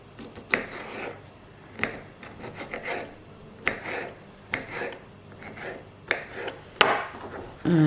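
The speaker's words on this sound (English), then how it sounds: "So I'm just going to chop that. And I'm just going to cut it into small pieces." A knife chops a tomato into small pieces on a board, with sharp irregular knocks spaced about a second apart over faint scraping, close and fairly quiet with no talking.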